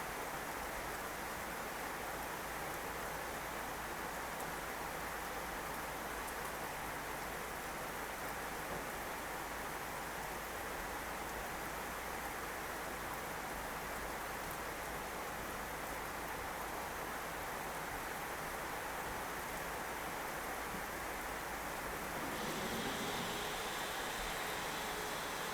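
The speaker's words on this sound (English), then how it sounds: "You might hear the rain, I'm guessing." Rain falling outside on a rainy day, a continuous faint hiss of steady rainfall over the whole stretch, even and unbroken, with no voices.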